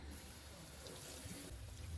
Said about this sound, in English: I clean the rice under the water to get rid of the starch